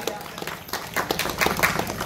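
A village crowd at a Navratri festival inauguration claps for its sarpanch and panchayat members, dense brisk applause filling the whole short stretch at close range.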